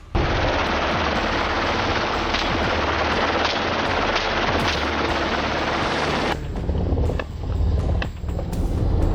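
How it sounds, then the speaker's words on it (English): Loud, continuous rotor thudding and engine roar from a helicopter hovering overhead fill the scene, easing briefly near the end before surging back. "A helicopter hovers overhead, its rotor blades beating steadily."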